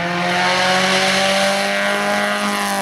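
A Lotus race car blasting past at a hill climb in Quily, its engine a loud sustained howl with strong harmonic tones rising slightly in pitch, close and unbroken, with no talk over it.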